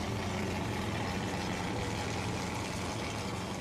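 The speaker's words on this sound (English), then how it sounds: "really loud V8 engine under his bonnet" Loud V8 engine of a drift car idles and burbles steadily during live qualifying at the FIA Intercontinental Drifting Cup, a dense, continuous low rumble with no talk.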